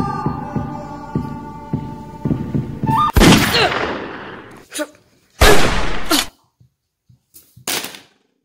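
Video game gunfire lands a headshot: a sharp, loud blast cuts through a low hum, followed by a few shorter shots that fade into quiet, with talking at the start.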